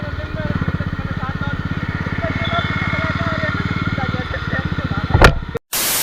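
A Royal Enfield Classic 350 Bullet BS4 runs alongside a Bajaj Pulsar 150 BS6 in a drag race, a loud, steady, pulsing single-cylinder engine thump near the mic, ending with a burst of wind noise and a sudden cut.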